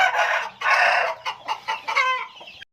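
Brooding hens sitting on eggs cluck loudly and close by in short, repeated bursts, with no other sound around them.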